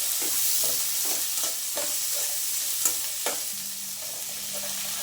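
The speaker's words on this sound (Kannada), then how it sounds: "ಈರುಳ್ಳಿ ಸೇರಿಸ್ಕೊಂಡಿದ್ದೀನಿ ಕರಿಬೇವು ಇದೆಲ್ಲ ಸ್ವಲ್ಪ ಫ್ರೈ ಆಗಬೇಕು" Onion and curry leaves fry in hot oil with a loud, steady sizzle, while a spoon stirs the pan in repeated scraping strokes; no talking.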